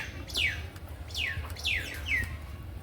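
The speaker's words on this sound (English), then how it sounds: "So many birds over here" Outdoors in Vrindavan, a bird repeats four quick descending chirps at an even pace over a low background hum, fairly faint and distant.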